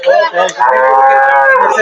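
A cow, an Australian cross or Sahiwal, at the Bamundi livestock market in Gangni, Meherpur, gives one loud, close, drawn-out moo that starts with a short break and then holds steady.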